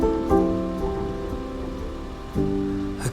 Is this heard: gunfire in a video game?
no